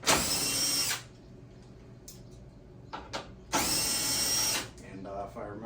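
A power drill spins out 10mm screws from the front grille of a 2023 Chevy Silverado, giving two loud whirring bursts about a second long, with faint clicks and handling noises between them.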